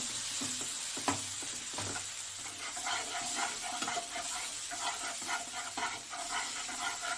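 Masala paste with cashew and poppy seed sizzling as it is stirred and sautéed for a Bengali fish malai curry, a steady hiss broken by scraping strokes of a spatula, close and fairly quiet, with no talking.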